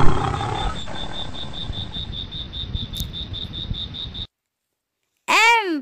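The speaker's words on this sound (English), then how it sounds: "L for lion." A lion roars, a loud close growl with a rising-then-falling sweep near the end after a short silence; before it comes a steady bed of chirping and outdoor noise with a repeating high insect-like tone.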